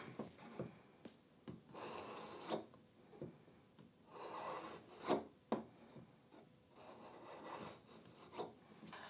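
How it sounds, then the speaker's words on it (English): A marking gauge scores a line across a timber board, a quiet series of dry rasping scrapes and rubs in short repeated strokes, close and fairly faint, with no talk. "And there you go, nice and precise score just across the board."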